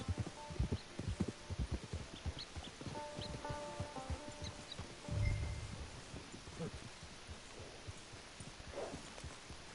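Horse hooves clip-clop in an uneven rhythm in the video game Red Dead Redemption 2 Online, fairly faint, with light rustling and a soft thump partway through; no one speaks.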